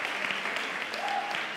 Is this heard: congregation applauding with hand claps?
yes